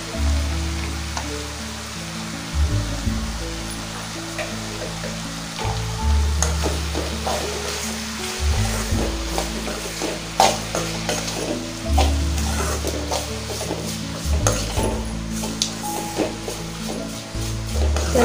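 Okra sambar mixed with sambar powder is stirred in a frying pan, with repeated scraping spoon strokes over a continuous sizzle and a low steady hum in the background.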